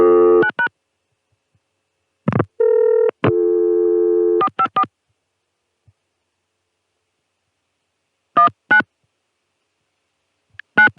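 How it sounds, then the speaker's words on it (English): A telephone number is dialed by touch-tone on a 1980s telephone line: short, evenly spaced beeping tone bursts, clear and loud against silence, with a steady longer tone in between and a few isolated beeps later. "so I'm dialing 454-1993"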